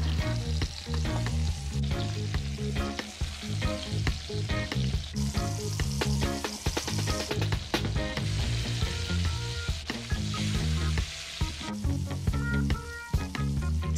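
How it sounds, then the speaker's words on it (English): Fish fillets frying in oil in a pot for a coconut curry, giving a loud, steady sizzle that runs throughout, mixed with other continuous background sound. "I'm going to fry these for about 1 minute on each side."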